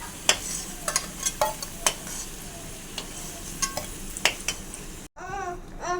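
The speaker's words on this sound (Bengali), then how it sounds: "আলুগুলো ভাজা হয়ে গিয়েছে, তুলে নেবো আলুগুলো।" Potatoes frying in hot oil, a soft continuous sizzle punctuated by irregular crackles and spatula scrapes, quiet and close, ending with a brief cut and a snatch of another sound.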